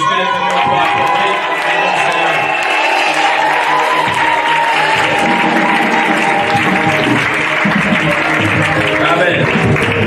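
A church congregation at a Sunday thanksgiving service applauding, a steady, loud wall of clapping and crowd noise with voices and music tones mixed in throughout.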